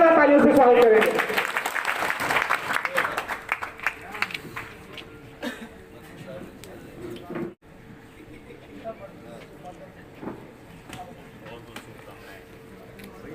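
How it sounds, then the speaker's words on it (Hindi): An audience claps loudly to welcome a new community office bearer at a gathering, the applause strong at first and then thinning into scattered claps and background noise. "आप सभी जोरदार तालियों से स्वागत करेंगे"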